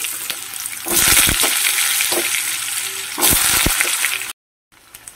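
Cumin seeds and cut potatoes hitting hot oil in a pan, a loud crackling sizzle that surges twice as ingredients go in, with stirring clatter and a short gap of silence near the end.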